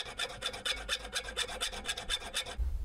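A metal file rasps excess lead off a homemade fishing lure, about ten quick, rhythmic back-and-forth strokes close up, each a gritty scraping burst, ending abruptly.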